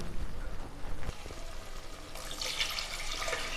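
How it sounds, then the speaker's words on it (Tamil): Water pours into a cooking pot of sautéed ingredients for Tamil paruppu sadam (dal rice), a steady close splashing stream that shifts to a brighter, hissing flow partway through. "நம்ம இப்போ இதுக்கு தேவையான தண்ணி ஊற்றிடுவோம்."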